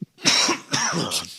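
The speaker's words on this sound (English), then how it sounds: "I still have a cough." Coughing from a podcast host who is still getting over an illness: two or three harsh, throaty coughs close to the microphone, each followed by a rough, raspy trailing breath.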